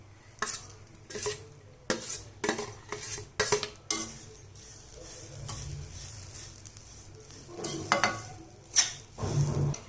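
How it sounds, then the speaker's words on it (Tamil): Semolina and grated coconut being roasted in a pan, with repeated sharp scrapes and clinks of a spoon against the metal over a faint dry sizzle, close and uneven in rhythm. "இப்போ 2 நிமிஷம் நல்லா வறுபட்டுடுச்சு ரவையும் தேங்காயும் சேர்ந்து"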